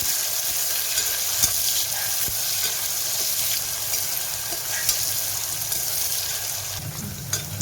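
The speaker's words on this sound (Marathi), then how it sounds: "कांदा, छान कांदा परतून घेऊ मस्त" Onions sauté in a pan with a steady, even sizzle and a few faint clicks of a stirring utensil.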